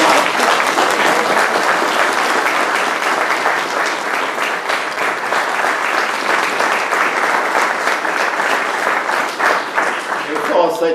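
Dense, sustained applause from an audience at a book launch, many hands clapping loudly and evenly for several seconds before it starts to thin at the end.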